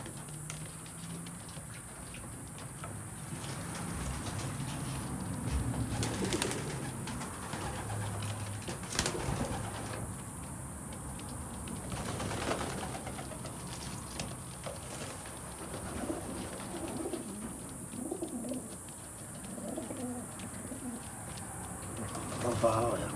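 Young pigeons bathing, giving soft low cooing calls against a steady hiss of water and background noise, with occasional splashes and flutters at moderate distance.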